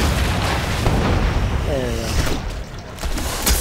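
Cannon fire in the World of Warcraft game, heard as a dense, loud, booming roar of blasts that fills the stretch, with a brief whine in the middle and speech mixed in.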